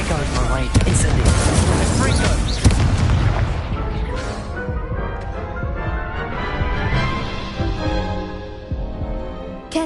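In the Hogwarts Legacy video game, a loud booming burst rings out as the Incendio fire spell is cast, followed by a decaying rumble and ringing game effects, with a voice talking over part of it.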